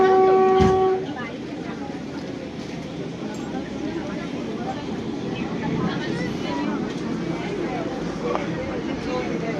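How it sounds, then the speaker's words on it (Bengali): Inside a Vande Bharat Express from Howrah to Santiniketan, a steady, loud rolling rumble fills the carriage, opening with a brief tonal horn-like blast before settling into a continuous running drone. "ট্রেন চলছে"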